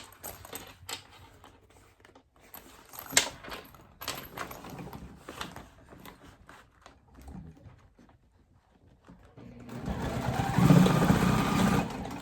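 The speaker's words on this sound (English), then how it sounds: "I'm gonna stitch just across that box bottom." A sewing machine stitches across the box bottom of a backpack, starting and stopping in short bursts before settling into one loud, sustained run of rapid stitching near the end.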